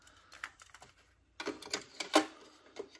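A cassette player button is pressed and a cassette tape is pushed in, giving a run of sharp plastic clicks and clacks, sparse at first, then a denser burst of louder snaps, close by with no talking.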